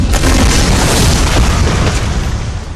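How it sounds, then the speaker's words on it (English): A massive explosion destroys the Shroud facility in the shooter Pariah, a loud, sustained roaring boom that fills the whole moment with dense rumbling blast noise. "This explodes the entire Shroud facility and I guess everything else?"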